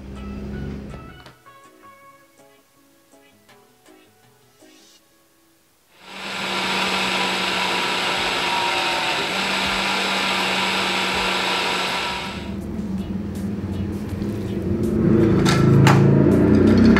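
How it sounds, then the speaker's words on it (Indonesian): An electric blender grinds spice paste for Sukabumi-style grilled chicken, starting abruptly after some quiet kitchen clatter and roaring loud and steady for about six seconds before cutting off, followed by handling noises and knocks. "sekarang saya akan memblender bumbu-bumbunya ini"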